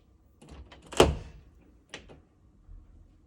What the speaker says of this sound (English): I'm going to open the door, which will cause the LED to turn off.